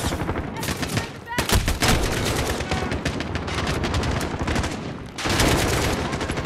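Sustained automatic gunfire from the Modern Warfare campaign rattles almost nonstop with loud bursts, mixed with game effects and occasional player talk.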